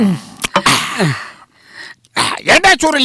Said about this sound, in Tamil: நான் தான் தும்முனேன்